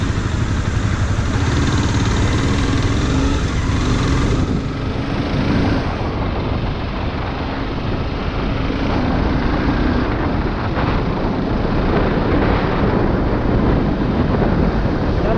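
A motorcycle cruising at 45 km/h in fourth gear, recorded from the rider's helmet with the visor open, gives a loud, continuous engine drone buried in heavy wind rush from start to finish.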